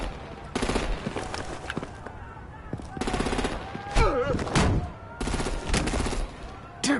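Artillery and automatic gunfire in Batman: The Enemy Within, loud rapid bursts of shots in three separate volleys with short pauses between, close and harsh.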